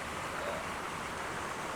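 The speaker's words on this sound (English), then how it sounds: "there's not a huge amount of water coming down" A small waterfall with only a modest flow in the North Pennines, a soft continuous splashing rush heard at a low, steady level.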